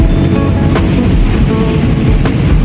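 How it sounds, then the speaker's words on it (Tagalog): Strong ocean waves about six feet high crash onto a beach in a loud, continuous roar of surf with heavy wind buffeting. No voices are heard. "ang lakas ng alon, 6 feet kaagad."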